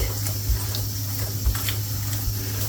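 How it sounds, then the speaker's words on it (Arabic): Water splashes softly as hands are wetted to spread whole-wheat bran bread dough, a steady faint trickle with a few small splashes and no talking. "هنا انا جبت ميه اهي، وهبل ايدي وابدا افرد من جوه لبره"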